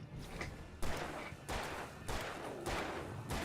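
Video game gunfire, a few sharp loud bursts at roughly even intervals, each followed by a brief noisy decay, with no voices over it.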